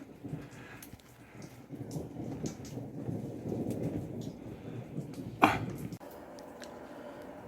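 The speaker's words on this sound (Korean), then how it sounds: "밖에 비가 많이 오고요." Steady heavy rain hisses throughout, with a sharp crack or thud near the end, like a distant thunderclap during a thunderstorm, fading back into the downpour.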